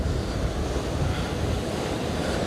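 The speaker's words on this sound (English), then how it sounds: "I don't know if you can hear the waves" Ocean waves at Sunset Cliffs in San Diego make a constant broad wash of surf, blended with rumbling wind buffeting the microphone, with no clear breaks between swells.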